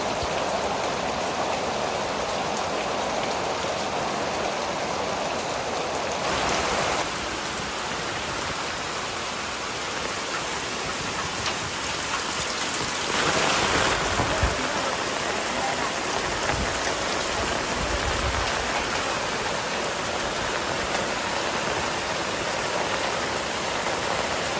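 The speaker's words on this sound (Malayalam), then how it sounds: "അവിടെ എത്തിയതും മഴ തുടങ്ങി" Steady rain pours down outdoors in a broad, continuous hiss, with a brief heavier burst partway through and no voices.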